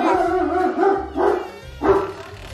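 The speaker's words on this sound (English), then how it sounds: "There's more dogs." Several dogs bark and howl in bursts at a house, loud and close, with yelps rising and falling over about three seconds.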